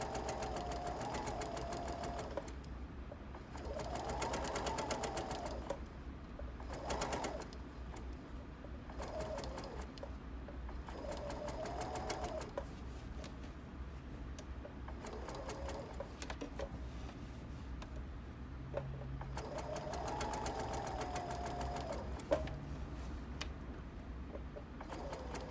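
A sewing machine stitches a drawstring bag in quick, repeated bursts of rapid mechanical whirring separated by short pauses, heard up close with faint background hum.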